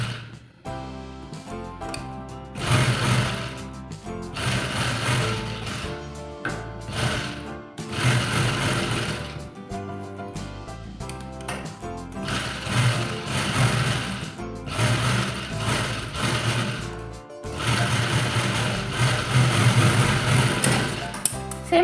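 A sewing machine runs in steady bursts while a ladies' shirt is being stitched. The close mechanical whirr starts and stops several times with short pauses, and a musical backdrop sits over it throughout.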